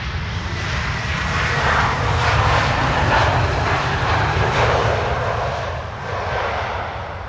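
An airliner lands in a gusty crosswind at Amsterdam Schiphol, its engine roar a steady, broad rush that swells slightly and then eases, heard alone without voices.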